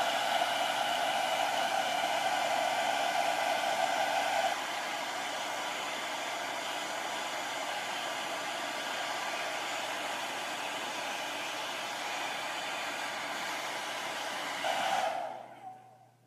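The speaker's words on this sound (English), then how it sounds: "my favorite thing is to use your hair dryer" A hair dryer blows steadily at close range for about fifteen seconds, its airy whoosh dropping slightly in pitch before it cuts off.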